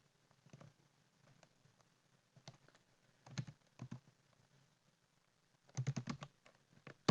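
Quiet, sparse clicking of computer keyboard keys, including a press of the F2 key, in short irregular bursts with pauses between.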